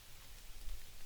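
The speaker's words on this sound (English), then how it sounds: "the rain was starting to pick up" Rain falls at a bushcraft camp with a lean-to shelter as a soft, continuous patter. It is faint and even throughout, with no talk.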